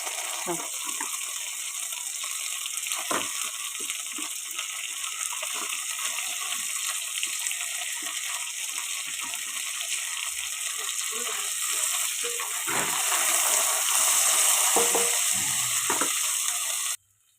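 Potatoes and mango pieces fry in a pan with a steady, close sizzle and crackle that runs throughout, with a voice talking softly over it.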